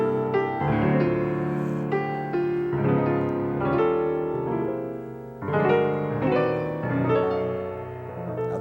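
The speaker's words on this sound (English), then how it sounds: "Now this means that ultimately Fair Harvard can sound like this." Fair Harvard played in a freely chromatic version, with sustained harmonies that shift continuously through the passage at a steady moderate level, with no speech over it.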